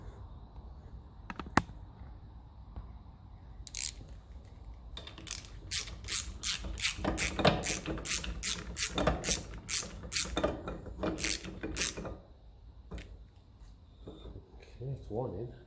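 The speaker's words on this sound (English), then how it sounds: "let's go and get a smaller little 1/4 inch drive. Make it a bit easier just to shoot these in." A 1/4 inch drive ratchet drives fasteners in on a 1954 Ferguson 20 TEF diesel tractor, with close, rapid clicking in repeated bursts and a faint voice underneath.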